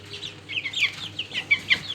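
Young chicks of a purebred egg-laying chicken breed cheep and cluck in soft, scattered bursts over a low steady hum, fairly faint and unhurried, with a few sharper peeps standing out.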